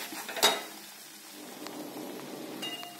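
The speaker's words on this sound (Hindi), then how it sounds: "अब इस घी में हम गेहूं का आटा डालेंगे और इसे धीरे धीरे चलाएंगे" Wheat flour being stirred and roasted in melted ghee in a pan over medium-low flame, with a soft sizzle under a sharp clink of a spoon against the pan and faint scraping, quiet and close.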